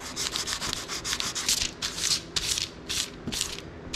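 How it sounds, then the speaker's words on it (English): Light hand sanding of filled nail holes on painted trim gives quick, raspy back-and-forth strokes in a steady rhythm of short bursts, close and fairly quiet, with no talking. "light sander."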